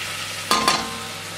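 Flour is tipped into melted butter in a pan while making white sauce, giving two short bursts of sizzle and a brief stirring scrape over a soft background hiss, close and alone.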